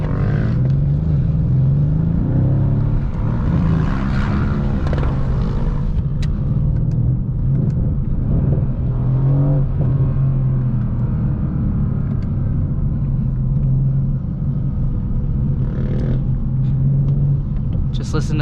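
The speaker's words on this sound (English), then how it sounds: "Just listen to that beautiful V8 twin turbo engine." The V8 twin turbo engine of a 2017 Mercedes-AMG C63 S rumbles deeply and loudly throughout, with a steady low throb and slight swells in revving.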